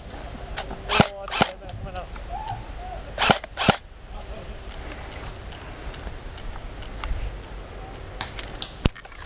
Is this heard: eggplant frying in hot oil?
no